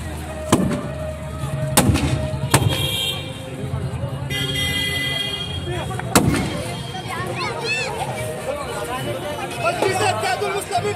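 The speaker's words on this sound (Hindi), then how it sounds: "किस तरह से पटाखों की आतिशबाजी हो रही है" Firecrackers and fireworks going off at a street celebration in a square in Solapur, sharp loud bangs scattered over a busy crowd roar, with drums and someone talking over the din.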